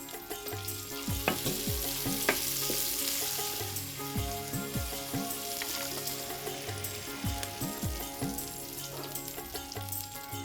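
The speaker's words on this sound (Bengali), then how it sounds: "এবার ভাজা হবে পেঁয়াজের কুচি আর কাঁচামরিচের ফালি" Chopped onion and slit green chillies fry in oil in a pan for a mango-chicken curry, giving a steady close sizzle with occasional spatula scrapes and soft background music. No one speaks.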